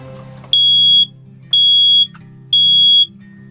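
A smoke alarm in an A-frame popup trailer gives three loud, shrill beeps at even one-second intervals, each lasting about half a second, over a faint low hum.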